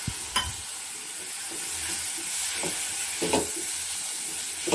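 Soaked lentils fry with browned onions in a pan, sizzling steadily while a spoon scrapes and taps the pan several times.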